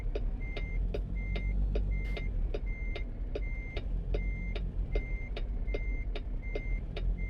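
A reversing truck in American Truck Simulator sounds a regular, evenly spaced series of about a dozen beeps over a low idling engine rumble, with no speech.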